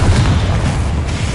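A loud, sustained booming explosion from the Confringo spell in a Harry Potter film, a dense roaring blast filling the whole stretch with rumbling low end.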